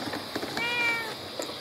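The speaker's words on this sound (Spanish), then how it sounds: "Mira, un gatito ahí acá." A kitten meows on a vacant lot, a single thin drawn-out cry standing out from faint background noise, with no talking.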